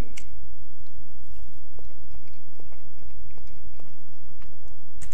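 Someone eats rice and fried chicken at a McDonald's in Indonesia, with soft, close chewing and occasional small crunches and bites against a low room murmur.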